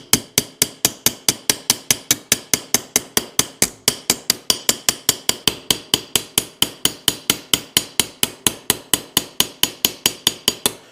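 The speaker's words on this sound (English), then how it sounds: "So I'm just going to use my little ball peen." A small ball peen hammer texturing a copper jewelry cuff, striking in a fast, very regular rhythm of sharp metallic taps, close and clear, dozens of blows with no talk.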